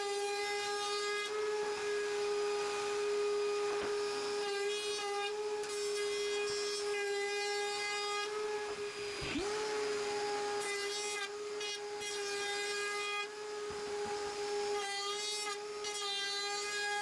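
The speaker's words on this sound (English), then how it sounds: "Back to the router table, I round over the sides of the legs but not the top or bottom." A router table spins with a steady high whine while pallet wood table legs are fed through for a roundover, the cutting pitch dipping briefly under load, loud and close throughout.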